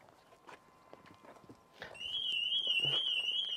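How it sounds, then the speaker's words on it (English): Scattered faint knocks and shuffles, then a Ferrari SF90's shrill warbling car alarm starts abruptly and keeps sounding steadily, rising and falling in pitch. "So why did the alarm go off?"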